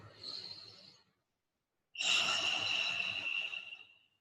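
A close, deep breath drawn in over about a second, followed after a short silence by a longer, louder breath of around two seconds, heard alone without talking.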